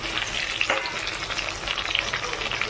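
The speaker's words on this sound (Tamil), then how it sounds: "இப்போ தக்காளியை வந்து நல்லா வதக்கணும்." Tomatoes sautéing in a pan give off a loud, continuous frying sizzle with crackling pops and occasional stirring clatter, and no one speaks.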